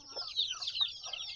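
A small flock of backyard chickens clucks in quick, overlapping bursts, close and fairly quiet, with no talking over it.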